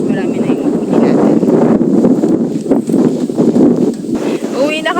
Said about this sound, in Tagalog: mukhang malakas ang ulan at malakas na yung hangin